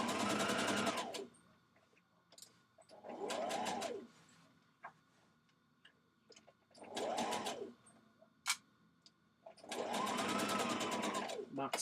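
A sewing machine stitches a pocket in place on a Vogue Patterns 1236 dress, running in four separate bursts of rapid, rattling stitching with quiet pauses and small clicks between them.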